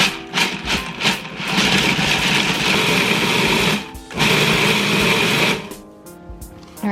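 A food processor pulses a cocoa and peanut butter cup mixture in loud, whirring bursts, a few short ones, then two longer runs separated by a brief pause, before it stops.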